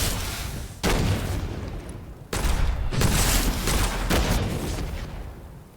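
A red explosive barrel shot and blowing up in the first-person shooter Witchfire: loud, close, rumbling blasts in quick succession, with abrupt starts near one and two seconds and a dense roar that slowly fades.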